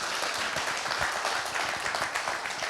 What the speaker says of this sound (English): If you can give them a round of applause for me